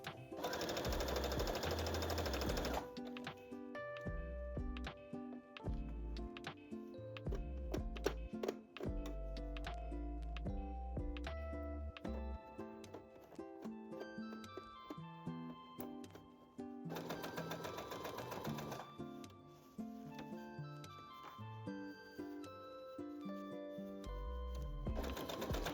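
A sewing machine stitches the side seams and edges of a gathered yoke skirt, running in bursts of rapid rhythmic clatter with brief pauses between passes, close and steady throughout.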